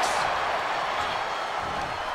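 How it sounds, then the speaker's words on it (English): An arena crowd in AEW Fight Forever roars steadily and loudly during a Jade Cargill vs Britt Baker world championship wrestling match, a dense wash of noise with no breaks. "The roar of this crowd has been building, and they are at a fever pitch right now"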